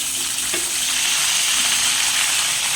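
Food frying in cooking oil for a home-cooked lunch, a steady loud crackling sizzle that fills the whole stretch without pause, close by, with no voices over it.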